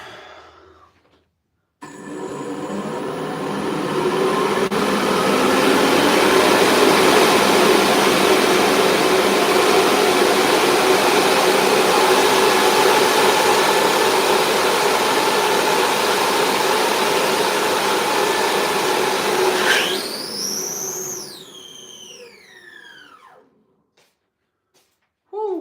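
An electric ducted fan turbine with a stripped Nylon 6 gear spins up to about half throttle, a loud steady whine that holds for many seconds, then winds down with falling pitch before cutting off.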